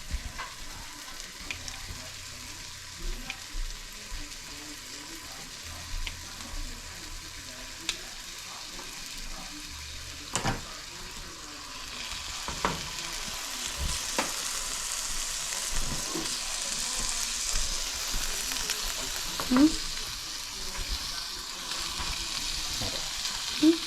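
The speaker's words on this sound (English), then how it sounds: "And then we're going to fry this bacon up." Bacon pieces frying in a pan, a soft steady sizzle and crackle with occasional sharper pops and a few utensil clinks, fairly quiet and close, growing a little busier toward the end.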